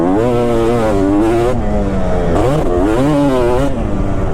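Kawasaki KX250 two-stroke dirt bike revving hard on a deep sand track, a loud, close, rasping engine climbing and dropping in pitch through repeated throttle blips and gear changes, with no talk.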